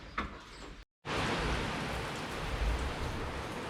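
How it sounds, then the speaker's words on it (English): Steady rain falls outdoors as a dense, even hiss, broken by a brief moment of silence near the start, then continuing unbroken. "She's raining out there."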